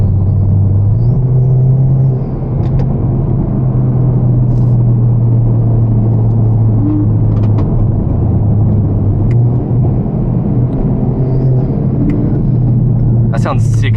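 Engine of a Mercedes on the highway, a steady loud rumble and road roar heard from inside a moving car, with talk over it.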